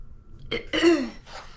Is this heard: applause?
no